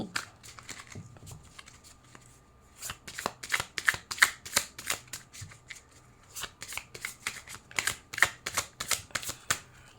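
Tarot cards being shuffled by hand, a long run of crisp riffling bursts in a quick, steady rhythm, close and clear with no talk over it.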